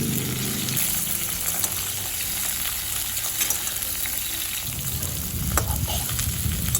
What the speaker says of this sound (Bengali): আলু আর ডাঁটা দেখুন একসাথে করে খুব ভালো করে ভেজে নিলাম।